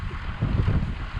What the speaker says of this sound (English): It's a bit windy, as you can probably tell